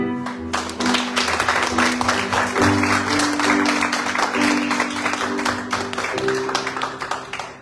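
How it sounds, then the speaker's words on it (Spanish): A church congregation claps loudly and continuously during worship, with sustained keyboard or organ tones playing beneath the applause. "Vamos a dar un aplauso al Rey."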